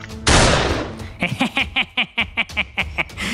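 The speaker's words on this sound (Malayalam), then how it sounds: "തീവ്രവാദികൾ സിംഹമാണെന്ന് കരുതി അങ്ങോട്ട് നോക്കി വെടിവെച്ചു." An animated story has militants firing toward a bush. A sharp, loud blast opens, followed by a rapid, evenly spaced string of about ten gunshots close up, with no voices.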